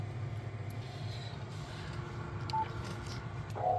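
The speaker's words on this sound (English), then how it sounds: "the radio next to me is trying to zero beat and" A Yaesu ham radio makes brief electronic tones while it tries to zero beat, over a faint, steady low hum, quiet and without voices.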